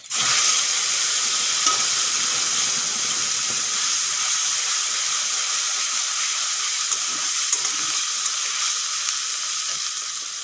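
A spice paste of ginger, garlic, tomato, onion and green chilli fries with whole garam masala in hot oil, a loud, continuous close sizzle with faint scraping of stirring and no voices.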